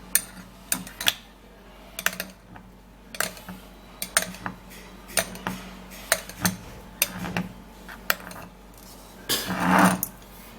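A utensil clinks and scrapes against a bowl while an avocado mixture is stirred, giving irregular close taps and knocks.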